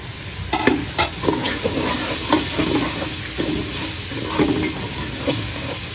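Uncooked ordinary rice, already washed twice, stirred in a pot with a spoon, giving steady scraping and swishing strokes against a wet hiss, close and moderately loud with no talking.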